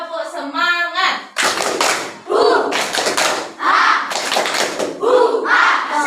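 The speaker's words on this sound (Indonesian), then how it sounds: "Tepuk semangat." A sixth-grade class performs a rhythmic spirit clap in bursts of group clapping and chanting, children's voices loud and close between the clapped patterns.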